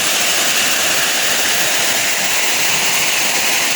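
Dapingan Falls pouring steadily, a loud, continuous broadband rush of falling water with no breaks, close by and without voices.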